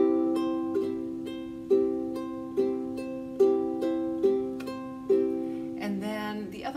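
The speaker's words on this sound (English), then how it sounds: "we pluck with our forefinger on the bottom string and then strum down with our thumb" Acoustic guitar played in a pattern of a single plucked bass string followed by a downward thumb strum of a chord, repeated about six times in a steady moderate rhythm, close and clear with no voice.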